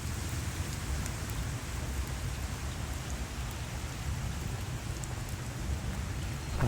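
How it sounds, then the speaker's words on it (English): Steady rain falling outdoors during a walk on a morning of errands, a dense even hiss that carries on without a break, close and moderately loud, with no one talking. "I think the rain is leaving us."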